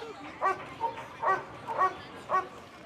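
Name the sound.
police dog barking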